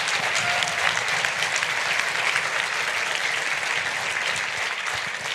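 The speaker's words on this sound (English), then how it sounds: "Give him a hand." An audience claps in sustained, dense applause at a self-improvement talk, steady and full throughout before easing slightly at the end.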